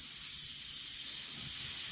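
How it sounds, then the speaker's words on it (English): Low-pressure airbrush spray misting paint lightly along the panel lines of a 1:48 Airfix Sea King HU5 model kit, a steady soft hiss that runs unbroken throughout, close and quiet with no talking. "And then I'm just going to lightly give the panel lines a spray."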